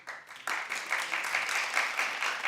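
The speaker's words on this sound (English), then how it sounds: "Clap if you would." Sparse clapping from a small studio audience on a daytime talk show starts abruptly after a brief quiet moment, then continues as a steady, thin patter of hands without swelling into a full ovation.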